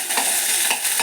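Coconut oil sizzles in a pan with a bright, steady hiss and faint stirring taps, close and brief, with no voices.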